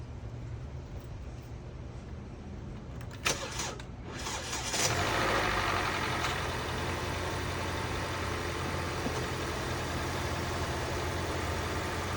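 A 2020 Hyundai Elantra engine cranks and catches partway through after a spark plug change, then settles into a steady, even idle that continues to the end.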